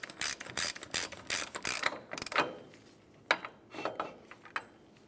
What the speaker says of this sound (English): We'll just use a ratchet and snug it up.